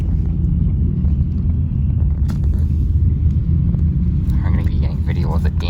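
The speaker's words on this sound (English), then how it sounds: "Our resource trucks are here." Resource trucks arriving after a nor'easter storm, their engines a steady, loud low rumble that fills the whole stretch, with faint higher clatter near the end and indistinct talk underneath.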